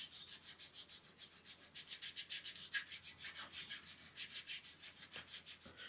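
Sandpaper rubs lightly back and forth over a body panel edge on a Datsun 280Z, a fast even rhythm of close, scratchy strokes heard alone for several seconds.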